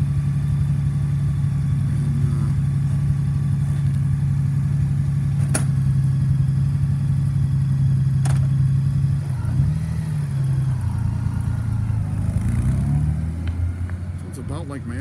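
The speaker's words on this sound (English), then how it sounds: "So, we're going to have Bacon hop on it and ride it so you can hear it." A 2017 Honda Goldwing motorcycle fitted with a throatier aftermarket exhaust is ridden, giving a steady low engine drone that holds even, then shifts pitch and eases off near the end as the bike moves away.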